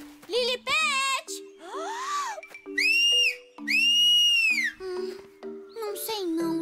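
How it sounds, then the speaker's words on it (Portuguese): An animated cartoon character attempts to whistle, producing several rising and sliding whistle tones between childlike vocal sounds and babble, loud and close. "eu não ia mesmo conseguir assobiar de novo"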